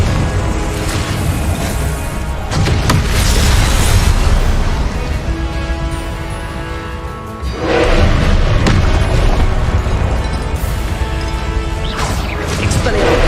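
Booming blasts of the Confringo explosion spell in Hogwarts Legacy, loud crashing bursts with thuds amid continuous game noise and music, a second big impact arriving midway.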